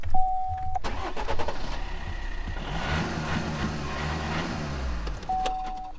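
A car is started with a key, bringing a cranking whirr and then the engine catching and revving before settling into a rough idle; a chime beeps at the start and end.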